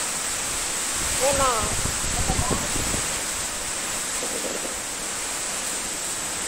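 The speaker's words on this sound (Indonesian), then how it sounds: "Hujan ya." Steady rain pours down throughout, a dense even hiss like a downpour outside a classroom, with a couple of people speaking briefly over it.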